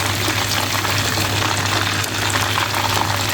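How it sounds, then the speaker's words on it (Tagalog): Chicken pieces sizzle in hot oil during the first fry, a steady, loud crackling hiss that holds without pause throughout. "Bali, unang prito pa lang to."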